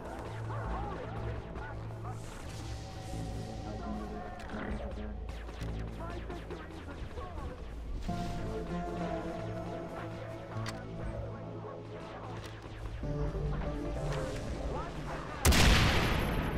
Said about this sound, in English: Ah, gunfire.